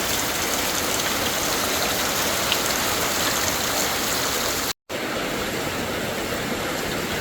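Heavy typhoon rain pouring without pause, a dense, continuous hiss of drops on surfaces, loud and steady throughout with no voices.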